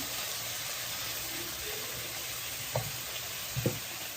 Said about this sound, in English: here I am browning up the meat, the beef that's going to go in there.